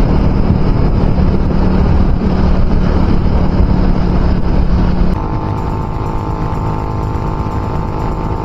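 A Suzuki Raider Fi motorcycle engine, freshly rebuilt and hard to start when cold, runs loud and close with a continuous rough drone, then settles into a smoother, steadier tone partway through.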